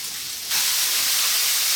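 Onions frying in a pan for a veggie and beef dish, a steady bright sizzle that jumps suddenly louder partway through and then holds as a constant close hiss, with no talking.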